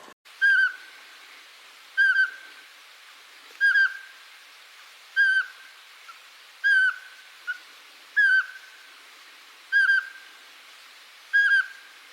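Eurasian pygmy owl giving a steady series of clear, piping whistled notes, about one every one to two seconds, fairly close and standing alone over quiet woodland background.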